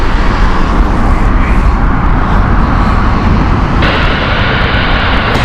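Loud, close roar of the airliner on the Belfast flight at Heathrow Airport, a dense continuous rush that shifts slightly in tone near the end.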